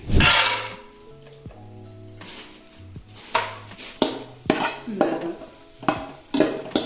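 Raisins frying in oil in a pan while making Palakkad-style chicken biryani, with stirring and scraping of a utensil against the pan, sharp clinks and knocks recurring near and loud over a soft, steady sizzle.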